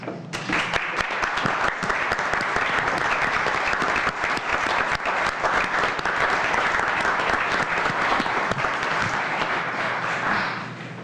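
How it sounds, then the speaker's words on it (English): An audience at a village board meeting applauds loudly and steadily, dense clapping sustained for about ten seconds before tapering off at the end. "we could give you a nice round of applause"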